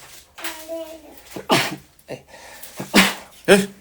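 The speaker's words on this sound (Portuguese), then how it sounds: "Espirrei, perdão, desculpe." A person sneezes during a talk, giving one or two sharp, breathy bursts close to the microphone, with speech-like sounds around them.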